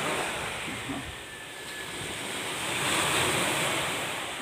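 Ocean waves washing onto a beach at the seaside, a continuous rolling surf with wind noise, swelling slightly louder toward the end.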